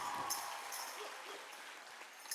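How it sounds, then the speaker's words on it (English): An audience at a pow wow claps in a brief, faint wash of applause that fades slightly over a couple of seconds. "Let's give her a round of applause."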